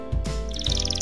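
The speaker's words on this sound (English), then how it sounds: "Canary." A canary sings a quick burst of bright, high chirping trills that rises over a lower steady tone, short and fairly close.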